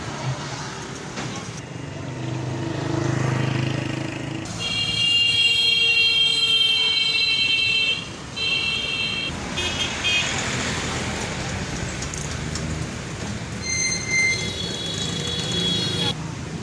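Trains and road traffic rumble at a railway station in Taxila, with metallic wheel squeals and tonal horn-like toots rising over a busy noisy backdrop; voices are faintly mixed in.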